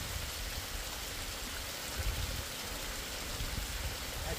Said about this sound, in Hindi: एक ग्लेशियर पिघल के आ रहा है